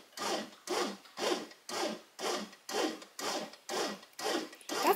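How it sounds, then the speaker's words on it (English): A bread machine paddle turns inside the pan, kneading a ball of dough. Steady, faint, rhythmic rubbing knocks repeat about twice per second, heard alone. "you might hear a humming noise in the background, maybe a little bit of knocking going on, because it's just kneading that ball of dough inside"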